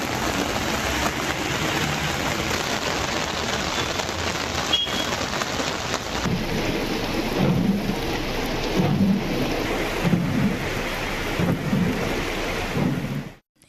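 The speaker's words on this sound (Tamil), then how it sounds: "கொடைக்கானலில் 2வது நாளாக 2 மணி நேரத்திற்கும் மேல் கனமழை பெய்தது" Heavy rain pours steadily in Kodaikanal, a continuous loud hiss of rainfall with low thunder rumbling through it, close and unbroken, with no voices.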